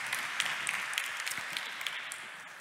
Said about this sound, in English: Could you give a very warm round of applause to these lovely speakers?